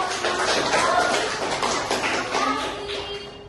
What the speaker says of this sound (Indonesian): Berikan aplaus dong.